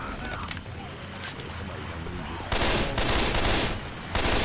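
Dense gunfire from the video game Left 4 Dead 2 during a versus match, loud continuous bursts layered over game noise and chaotic background sounds.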